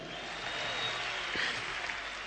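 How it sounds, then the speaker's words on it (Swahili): At an Akurinu church gathering in Kenya, a crowd applauds the musicians with steady, dense clapping that continues without a break. "Wapi makofi ya wanamuziki wetu wewe?"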